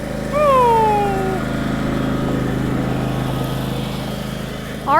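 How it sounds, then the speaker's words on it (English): A lawn mower runs with a steady drone while someone mows a garden lawn, and birds chirp briefly above the engine. No one speaks. "Here comes Aaron, he's mowing today."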